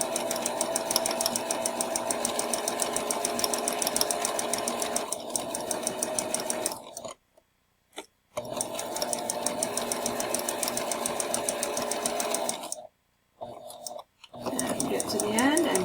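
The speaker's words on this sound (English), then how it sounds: "stitch a plain seam, which means line it up at 5/8, needle in, press your foot down, and do your back stitch again, and come straight forward" A sewing machine stitches a plain seam in muslin, running in steady rapid bursts with a fast regular needle chatter, stopping twice for brief pauses before starting up again, close and loud.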